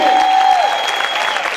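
Loud applause from a church congregation during a Spanish-language sermon, a dense wash of clapping that holds steady for under two seconds, with a sustained tone sliding down beneath it.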